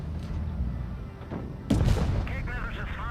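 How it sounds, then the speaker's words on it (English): A single loud gunshot from a video game, part of a pro tournament match, bursts out sharply over a steady low rumble of game ambience, followed by a ringing tail and faint tonal in-game sounds. "Did he just shoot?"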